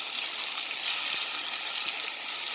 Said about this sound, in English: Just kind of saute it down a little bit.